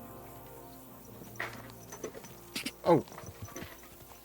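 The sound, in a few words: horse hooves walking in a medieval video game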